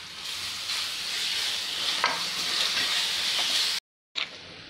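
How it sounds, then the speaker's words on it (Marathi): Grated raw mango goes into a hot pan with peanuts and turmeric, giving a loud, steady sizzle and frying hiss with occasional stirring scrapes, close by, then a short silence and a final clatter. "आता आपल्याला टाकायचा आहे कैरीचा किस। 1 कैरी घालत आहे मी।"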